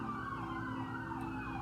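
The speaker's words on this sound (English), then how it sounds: "And with these sirens out here, they are skeptical." Emergency vehicle sirens wail outdoors, a steady distant-sounding siren tone held at low level with faint road traffic beneath.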